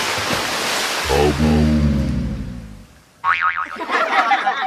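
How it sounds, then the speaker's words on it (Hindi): Cartoon sound effect of a van falling off a bridge into a river: a rushing whoosh and a descending, boing-like tone fade into a brief gap, then a loud, warbling splash bursts in. "वैन पुल से नीचे नदी में जा गिरती है।"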